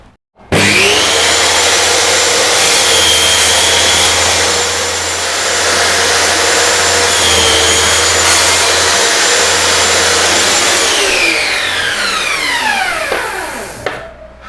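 A power saw cutting wood at a 90-degree angle runs loud and steady through a long cut, motor whining continuously, then winds down at the end.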